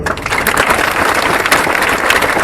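Dense, steady clapping from a crowd fills the whole stretch, loud and continuous without pause.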